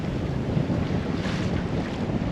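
A sailboat beats close-hauled in a brisk wind, with steady roaring wind noise buffeting the microphone over a constant wash of water along the hull.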